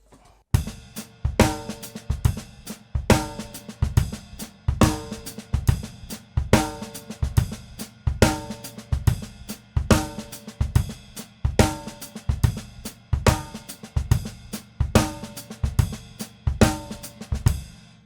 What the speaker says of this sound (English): retained the left-hand part of that double paradiddle and added half notes to the ride cymbal